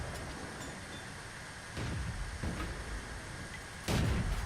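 A T40 tier 4 tank destroyer's gun fires in a video game: a few deep booming shots, the last the loudest, over a steady low battlefield rumble.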